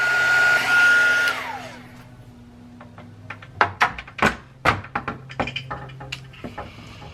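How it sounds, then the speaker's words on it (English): A craft heat tool used for heat-setting blows with a steady whooshing hum for over a second, then shuts off, followed by a series of close knocks and light clattering on a work surface. "I'm gonna heat set that."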